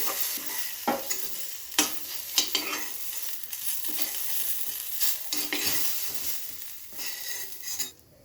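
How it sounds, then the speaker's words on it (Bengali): Eggplant pieces fry in oil in a pan, giving a steady hissing sizzle broken by several spatula scrapes and light metal knocks, close and moderately loud, with no voices. "দেখুন বন্ধুরা বেগুনটা আমার সুন্দর ভাজা হয়ে গেছে।"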